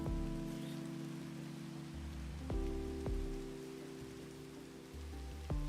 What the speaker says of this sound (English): Oh, it's raining! I love listening to the rain in this thing.